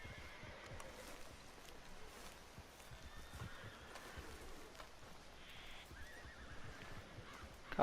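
A horse in the Red Dead Redemption 2 video game neighs and whinnies faintly, with light hoof clip-clops and a soft rain-like patter underneath, fairly quiet and distant throughout.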